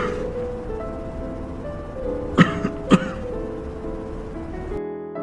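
In a mystery film, a woman coughs twice in quick succession, sharp and close, over a low background music bed that cuts out near the end.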